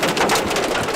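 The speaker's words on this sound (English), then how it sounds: "This is probably dime-sized hail." Dime-sized hail pelts a vehicle while it drives through a storm's hail core, a dense, loud, continuous rattle of rapid impacts with no pause.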